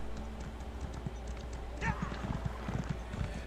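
Horse hooves clip-clop in a steady rhythm as a mount is ridden in the Elder Scrolls Online video game, fairly close, with a faint voice-like burst midway over a constant low background hum.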